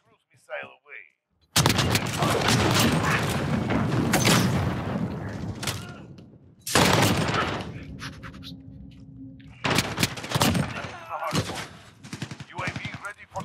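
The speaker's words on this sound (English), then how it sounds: "Allied cruise missile away" Cruise missile strike and heavy gunfire in Call of Duty: loud explosive bursts and dense rattling volleys come in several waves, separated by short lulls, with faint voices underneath.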